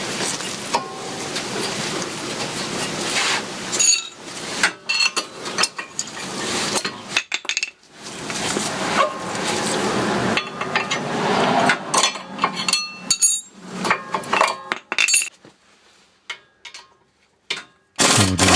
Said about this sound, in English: Then we'll take the pads out.